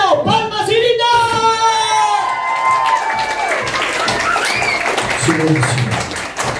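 Party crowd at a child's first birthday celebration claps and shouts, with excited voices and squeals rising over a dense wash of clapping.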